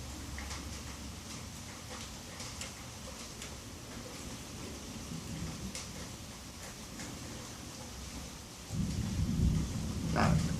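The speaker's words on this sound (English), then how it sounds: "Now, some of that's thunder." Distant thunder rumbles low and continuous beneath steady rain, faint at first, then swelling into a louder, deeper roll near the end.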